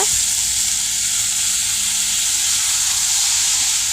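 Boiled jackfruit and tomato sauté in a hot pan for palakai chukka, giving off a loud, continuous sizzle and hiss from close by. No voices can be heard.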